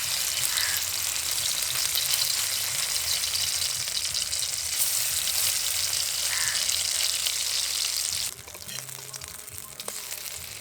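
Sesame fritters frying in hot oil, a loud, continuous close-up crackling sizzle that holds steady for most of the time, then drops slightly quieter toward the end.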